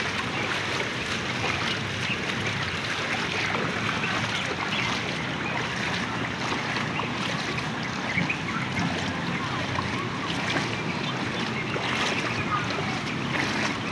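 Steady, loud rush of floodwater pouring continuously over a dam, a dense roaring wash with wind buffeting the microphone, no distinct voices.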